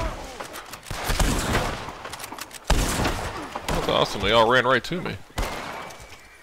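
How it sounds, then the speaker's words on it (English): Outdoor fireworks popping at night around New Year, a dense crackling volley of sharp bangs at mid distance, heard under close conversation between people. "Ah, shit, somebody's blowing fireworks."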